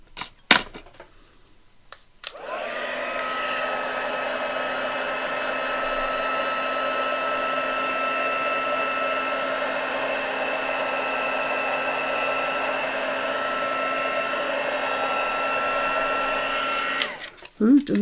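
A hair dryer blows air to dry a craft tag, switching on with a clatter and then running as a steady, even whirring drone for about fifteen seconds before clicking off.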